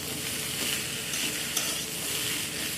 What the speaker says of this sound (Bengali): দিয়ে এখানে লাউটাকে আমি ভালো করে নেড়ে নেব, যাতে সুজি আর লাউ ভালো করে একসাথে মিশে যায়